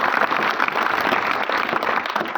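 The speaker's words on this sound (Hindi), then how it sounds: "जोरदार ताली उस शिष्य के लिए।" An audience claps loudly and continuously in a hall, a dense, steady patter of many hands with no voices over it.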